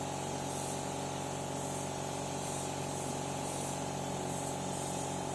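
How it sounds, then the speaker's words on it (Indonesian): A spray gun applying colour to melamine furniture gives off a constant loud hiss. A steady mechanical drone sits under it without a break. "Saat penyemprotan seperti ini, ujung spreganya diatur sedemikian rupa biar nanti keluarnya itu tidak terlalu pecah"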